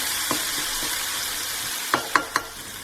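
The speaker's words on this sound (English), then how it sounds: "Our curry paste has cooked through nicely and you can see the oil release to the sides." Curry paste with spices frying in oil for an eggplant curry, a steady soft sizzle with a few sharp stirring clinks near the end.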